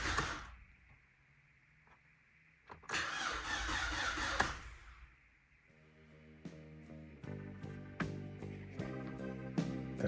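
A car engine cranks over and over, trying to start, with bursts of rough churning between quieter gaps and a pulsing starter rhythm near the end, close by.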